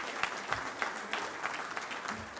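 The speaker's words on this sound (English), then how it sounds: "Give him a round of applause." Audience applause fills a Little Rock Touchdown Club luncheon, a steady wash of many hands clapping at a moderate level throughout with no speech over it.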